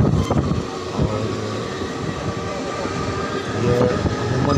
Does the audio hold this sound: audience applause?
no